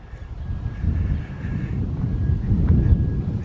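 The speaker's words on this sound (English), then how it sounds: "It's windy, you could probably hear it." Steady wind gusting across an open hiking trail near the edge of Casper, Wyoming, a continuous low rumbling buffet that swells and eases without a break, heard alone.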